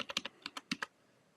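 Quick, crisp clicks of typing on a computer keyboard come in a short uneven burst of about eight keystrokes, fairly quiet and close, then stop into near silence.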